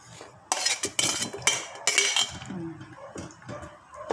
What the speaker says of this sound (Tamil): முருங்கைக்காவை போட்டுறேன். வெண்டைக்காவும் போடுறேன்.